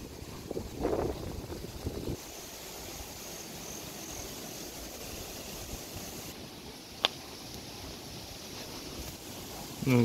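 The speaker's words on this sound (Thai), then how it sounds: "ลมค่อนข้างแรงกันครับ" Strong wind gusts across the Pha Luang cliff viewpoint in Si Sa Ket on the Thai–Cambodian border, a steady close roar of buffeting against the microphone. Someone speaks briefly at the start.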